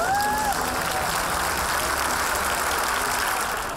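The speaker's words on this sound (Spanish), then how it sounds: "Entre ovaciones y aplausos" Workers applaud and cheer at a farewell for an outgoing company president, a dense, steady wash of clapping that stays loud throughout with no gaps.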